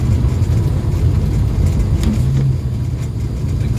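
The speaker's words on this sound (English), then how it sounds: "Big thump down into second gear from third." Ford XM Falcon with an AU engine, running on the road as it thumps down from third into second gear: a continuous low engine rumble with a brief tonal rise midway, no voices.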